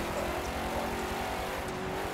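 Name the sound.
car driving in a racing video game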